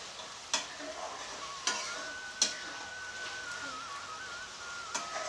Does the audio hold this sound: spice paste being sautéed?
yes